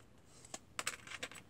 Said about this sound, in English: And then I remove the paper clips